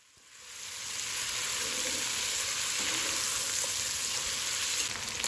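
Meat browns in a pan with a steady, fairly soft sizzle that swells within the first second and then holds evenly to the end. Nobody speaks.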